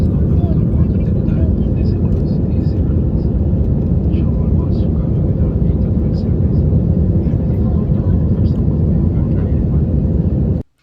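Jet airliner taking off, heard from inside the cabin as a loud, steady engine roar that holds for about ten seconds and then cuts off abruptly.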